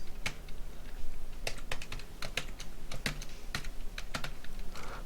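Quick, irregular clicks of typing on a computer keyboard while entering Visual Basic code, close and fairly quiet, in bursts of keystrokes with short pauses and no talking.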